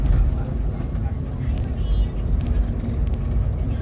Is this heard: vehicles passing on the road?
yes